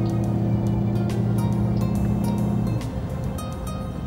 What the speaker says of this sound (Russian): С веселым креном лодка начинает поворачивать.